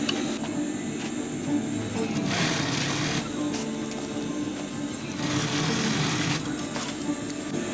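A sewing machine stitches a sustainment pouch, its needle motor running in steady bursts with brief pauses, close and clear, with no voices.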